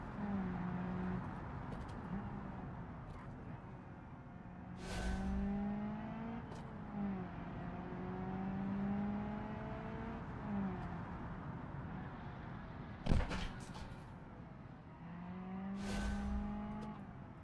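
A drag car engine revs hard on race tires in BeamNG, climbing repeatedly through high RPM in a rising, droning whine, with several sharp gear-change or throttle bursts standing out clearly.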